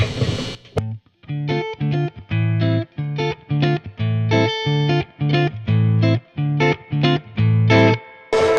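An electric guitar plays a series of ringing chords through a Mesa/Boogie Mark V tube amplifier on its clean channel at the 90-watt setting, strummed in bursts with short pauses and a touch of reverb.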